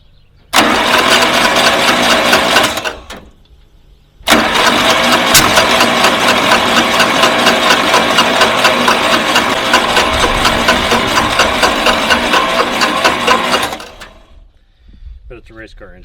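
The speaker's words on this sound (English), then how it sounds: "But it's a race car engine." A race car engine on a test stand, run without fuel, cranks loudly up close in a short burst, stops, then cranks again in a long steady churning run of about ten seconds before cutting off. A few faint clicks follow.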